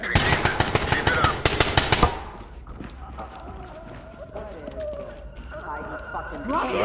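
Rapid bursts of enemy gunfire in a video game raid crack loudly and close for about two seconds, then give way to a quieter ambient hum with faint scattered clicks.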